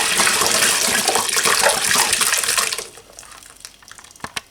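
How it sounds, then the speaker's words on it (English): Water gushing and glugging in a loud, close rush as a spun wine bottle empties quickly, ending after a few seconds with a few faint drips and clinks. "Quickest way to empty a bottle, spin it."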